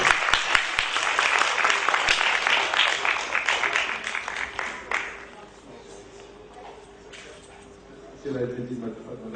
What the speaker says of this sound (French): on l'applaudit quand même à travers l'applaudissement de HCR